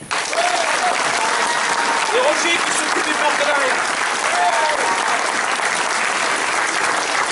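A festival audience applauds its partners with sustained, loud clapping while a presenter keeps speaking over it.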